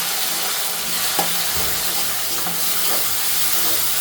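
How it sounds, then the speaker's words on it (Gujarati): Garlic and tomato puree hit hot oil for a Kathiyawadi methi gatta curry, giving a loud, close, continuous sizzle with occasional stirring clicks and no talking. "તેલ આવી ગયેલું છે એટલે એમાં એમાં જ આપણે બધું વઘારી નાખશું હવે આપણે લસણ અને ટમેટાની પ્યુરી નાખી દઈશું અંદર"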